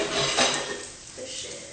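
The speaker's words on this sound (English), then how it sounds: "I really need to do the dishes in a second" Dishes and cutlery clatter in a home kitchen while someone washes up, with a clustered burst of clinks early on, then quieter scattered knocks, close and fairly loud.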